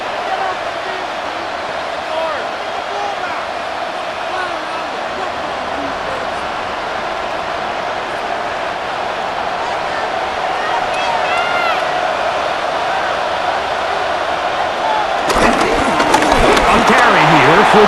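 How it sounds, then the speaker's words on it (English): Steady stadium crowd roar from Madden NFL 26 during a New York Giants versus Pittsburgh Steelers game, a dense continuous hubbub that swells louder toward the end. "And they're going to hear it from this crowd."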